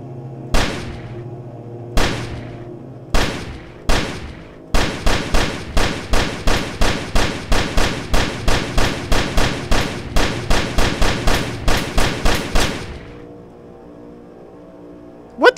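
Gunfire in the video game Only If: three isolated sharp shots, then a long rapid string of loud, evenly spaced shots for about eight seconds, ending in quiet with one final crack.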